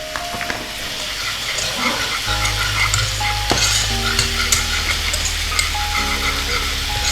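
Flour and butter roux cooks in a pan with a steady close sizzle, a spoon stirring and scraping through it, and a persistent low hum underneath.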